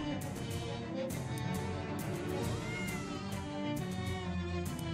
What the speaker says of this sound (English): The corn stalks rustle, and the cat you saw before appears with an inquisitive meow